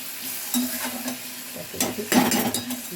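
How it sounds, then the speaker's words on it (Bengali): Mushroom curry being stirred in a pan with spices and a little water, giving a soft steady sizzle with a few scraping strokes and light clinks of the utensil against the pan. "ভালো করে নাড়া দিয়ে"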